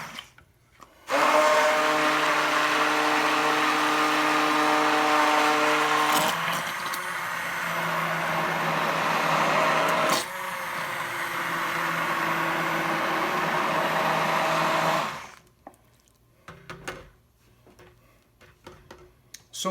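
A blender purees lobster bisque: a loud, steady motor whine runs for about fourteen seconds, shifting pitch partway through as the load changes, then cuts off, leaving faint clinks and handling noises.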